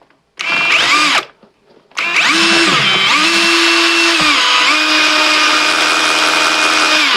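A cheap impact drill from a DeWalt/Makita-branded 5-in-1 kit runs loud and close, its high motor whine revving up, dipping briefly, then holding a steady pitch.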